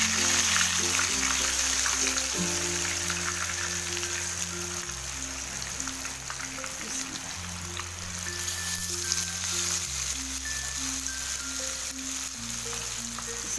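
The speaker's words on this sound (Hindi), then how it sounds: "इसी तरह सब फ्राई कर लेंगे हम" Food sizzles steadily in hot oil over a low flame, a continuous close crackle with soft music playing underneath and no speech.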